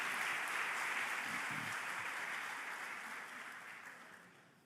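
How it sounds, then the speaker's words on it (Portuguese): Applause from an audience at a theology congress lecture during an academic week, a steady wash of clapping that holds and then gradually fades out, with no talking over it. "Você pode aplaudir ao Senhor?"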